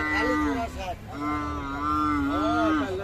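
Young buffalo calves moo in long, drawn-out calls, one after another, at a busy livestock market, loud and close, with faint voices in the background.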